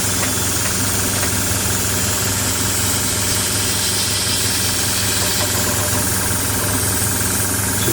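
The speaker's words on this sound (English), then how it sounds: "I'm going to attempt or try and put some polystyrene or something underneath the compressor" A small air compressor for model painting runs with a loud, constant mechanical hum and a steady knocking vibration that never changes from start to end.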